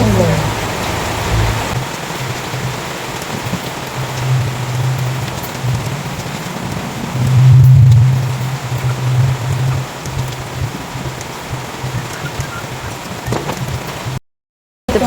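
Rain falls steadily in a dense, even hiss around a home in the Philippines, with a low hum underneath and a brief swell of louder noise midway before a sudden cutoff near the end.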